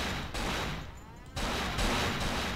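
Loud bursts of gunfire in the video game Cold Fear, a few sharp shots at the start and end separated by a short lull, close and punchy.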